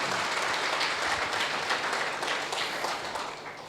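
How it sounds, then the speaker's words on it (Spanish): A church congregation applauds during a sermon, a steady wash of many hands clapping at moderate distance, fairly quiet and fading slightly toward the end. "Dale un fuerte aplauso a Cristo."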